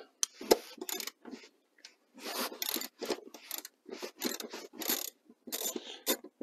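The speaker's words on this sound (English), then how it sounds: "Then we will take our 14 millimeter socket. Go ahead and pull these bolts out." A 14 mm socket wrench ratchets out seat bolts on a 2005-or-later Toyota Tacoma, bursts of rapid rasping clicks in repeated short strokes, close and clear with brief pauses between.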